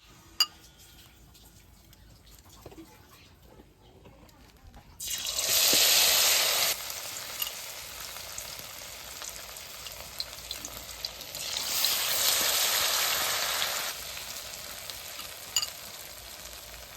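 Food frying in a pan in a home kitchen, with a low background crackle broken by two loud hissing surges of sizzle a few seconds apart and light utensil sounds.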